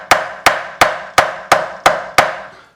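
Guitar frets being hammered into the neck of a Jackson-style partscaster: seven sharp, evenly spaced metallic taps close up, each ringing off briefly, with no voices.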